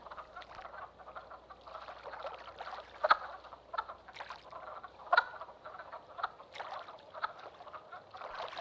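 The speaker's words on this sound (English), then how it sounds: "wood frogs find spawning pools and each other" Wood frogs fresh from hibernation call at forest spawning pools in spring, a dense steady chorus of clucking croaks with a few louder nearby calls standing out, no voices.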